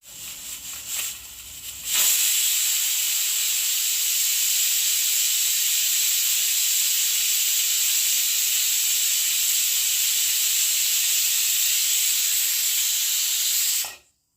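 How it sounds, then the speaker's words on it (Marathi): A pressure cooker whistles with a loud, steady hiss of escaping steam without pause for about twelve seconds, then cuts off abruptly, following a few brief clatters. "आता याच्या आहे ना दोन तीन शिट्ट्या चांगल्या होऊ देते"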